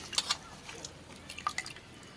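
Water drips and trickles in a few soft splashes while tomatoes are rinsed under running water in a home kitchen, faint and intermittent with short pauses.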